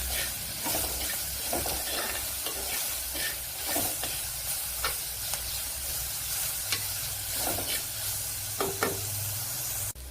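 Fenugreek and fennel seeds sizzling and crackling in hot oil for a fish curry, a loud close hiss with dense popping and occasional stirring scrapes, no voices.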